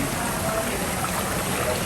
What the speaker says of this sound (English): that's kind of like a mini waterfall